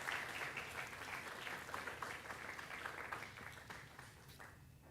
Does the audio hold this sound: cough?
no